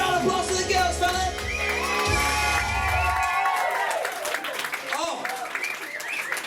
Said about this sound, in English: Give a round of applause to the girls